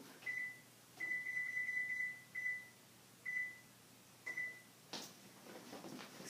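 Stove timer beeping as it is set for a few minutes, short electronic beeps in uneven bursts, some long and some clipped, fairly close in a quiet kitchen, followed by a soft clunk.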